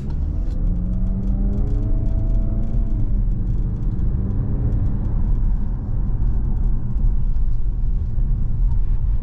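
A 2024 Nissan Altima SR VC Turbo pulls away from a stop, heard from inside the cabin. There is a loud, steady low rumble, with engine tones rising early on as it gains speed.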